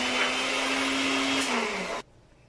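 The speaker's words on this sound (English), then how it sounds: "I'm going to grind this quickly" A blender grinds oil-based salad dressing, a loud, steady motor whine with a churning roar that dips slightly in pitch near the end, then cuts off abruptly into near silence.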